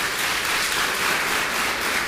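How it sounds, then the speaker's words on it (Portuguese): A church congregation applauds after a Gospel reading, giving a soft, continuous patter of many hands clapping at an even level, heard at some distance without speech. "Vamos aplaudir a palavra de Deus."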